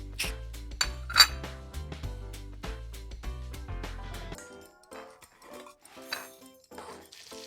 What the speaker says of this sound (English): I need to get another bowl.